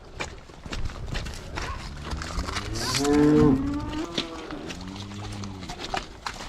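Cows on a French livestock farm give a loud, drawn-out moo near the middle, with shuffling hooves and farmyard clatter around it and a few fainter lowing calls after.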